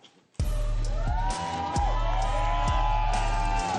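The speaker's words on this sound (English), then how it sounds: "You can hear the crowd get loud here in Sphero Studios." Live crowd at a Combate Global MMA event in Sphero Studios roars suddenly after a brief quiet, a loud sustained cheer over a steady low rumble, with an announcer's voice ringing through a PA over the noise.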